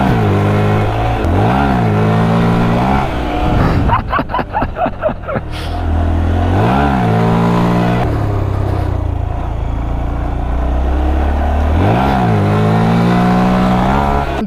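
A 2015 Honda Grom's small single-cylinder engine revs hard during a wheelie, rising and falling in pitch through several surges, with a fast rattling blip midway, loud and close throughout.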